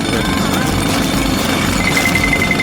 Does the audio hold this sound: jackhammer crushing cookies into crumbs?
yes